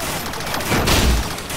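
Gunfire and explosions from a shooter video game, a dense burst of shots with a heavier blast rumbling near the middle, loud and continuous with no talk over it.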